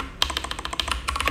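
Rapid keystrokes on a computer keyboard as a prompt is typed, a close, steady run of light clicks with brief pauses.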